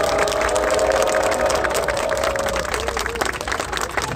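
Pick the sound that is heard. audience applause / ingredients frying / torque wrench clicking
audience applause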